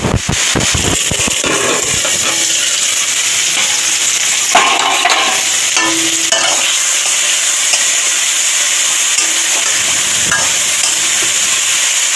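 Raw plantain and potato with salt and turmeric fry loudly in a pan, with scraping stirs and clatter at the start, then a steady crackling sizzle that runs without speech.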